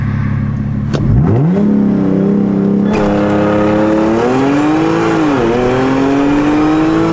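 An Audi S4 launching hard on a quarter-mile drag pass roars loudly and up close, its engine note climbing steadily, dipping at two gear changes and rising again, with no talking.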